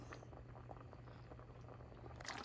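Mango and about ten garlic cloves simmer in a fish curry, giving a faint, steady bubbling and soft patter with a low hum underneath and a slight rise at the end.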